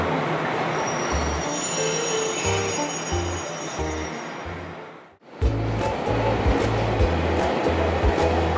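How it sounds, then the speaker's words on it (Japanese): Ozora express train pulling into a station in Hokkaido: steady rumbling wheel noise with rhythmic low thumps of wheels over rail joints and high squeals, close and loud, briefly dropping before resuming. "私たちが乗る大空号の到着です。"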